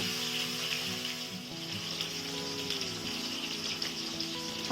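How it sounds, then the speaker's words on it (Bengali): Rohu fish pieces fry in oil in a pan at medium heat, giving a steady, even sizzle that runs throughout at a moderate level. "মিডিয়াম হিটে মাছগুলো ভেজে নেব মাছগুলো আমি মিডিয়াম হিটে ভাজবো"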